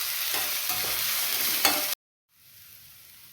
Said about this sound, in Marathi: यांना ना थोडंसं सॉफ्ट होईपर्यंत फ्राय करायचं बरं का